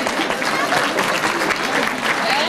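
Concert audience in Klarenbeek applauds two singers at a children's music show, a loud, dense burst of clapping from a crowd with some cheering voices mixed in, steady throughout.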